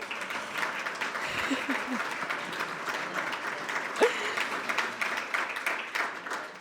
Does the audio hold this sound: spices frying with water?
no